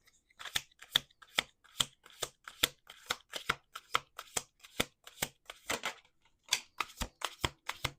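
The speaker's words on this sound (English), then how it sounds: "Let's do two more shuffles." A deck of tarot cards is shuffled up close in quick, crisp riffles, each a short papery burst, with a brief pause before the rapid rhythm resumes.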